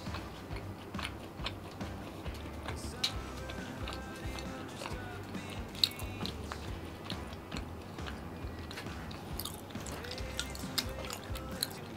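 Very spicy peanuts being chewed close up, with a steady crunching and mashing that runs continuously through the stretch.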